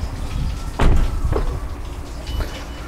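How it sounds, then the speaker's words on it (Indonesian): A frameless door on a 2017 Mini Cooper swings shut with one solid thud near the microphone, followed by fainter knocks and rattles against a steady outdoor background. "Dan ini pintunya udah frameless, jadi jangan dibanting kacanya."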